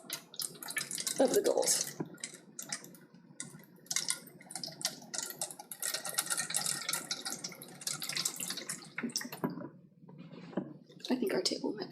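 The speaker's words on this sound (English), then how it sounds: "grab this pitcher of water and just pour it in until it covers the bottoms" Water pours from a pitcher into a shallow tray, a steady splashing and trickling stream that runs nearly continuously and close by, with brief pauses, while a person talks over it.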